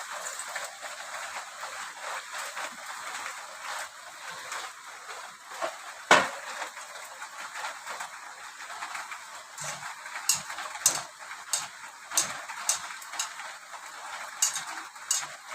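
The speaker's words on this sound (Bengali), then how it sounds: "এবার আমি একটা একটা করে চপ দিয়ে দেবো" Potato chops fry in hot oil in a wok with a faint, steady sizzle, punctuated by sharp ticks and clinks of a utensil against the pan, close and quiet.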